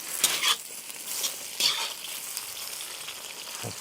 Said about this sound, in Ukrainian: І смажимо далі.